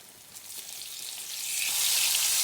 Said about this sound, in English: The cheese is frying.